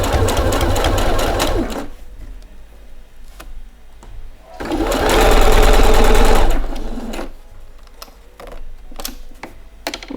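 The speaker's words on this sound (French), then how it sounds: "on va faire donc une petite couture au point droit à ce niveau-là" A sewing machine runs a straight stitch along a pouch in two loud bursts, one at the start and a longer one in the middle, with quiet pauses between.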